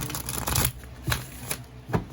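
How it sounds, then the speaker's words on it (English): A full deck of tarot cards being shuffled by hand, with repeated crisp riffling bursts roughly every half second, close and clear with no talking. "So, let's just shuffle that"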